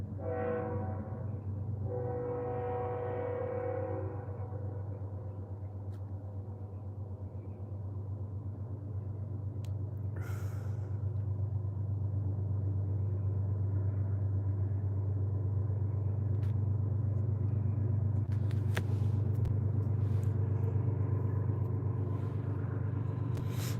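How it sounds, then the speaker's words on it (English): A train rumbles past with a steady, loud low-frequency roar, an early horn-like tonal sound fading out as the continuous rumble builds and persists. "Sounds like a train"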